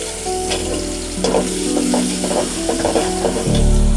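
Shrimp and onion frying together in hot oil in a pan, a loud, close, continuous sizzle and crackle that swells further near the end, with no voices.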